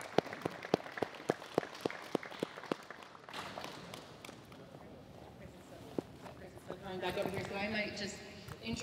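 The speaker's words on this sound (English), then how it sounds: "So round of applause to you guys." An audience claps at a car reveal event. A few distinct, fairly loud claps come first, then they give way to crowd murmur and a voice speaking.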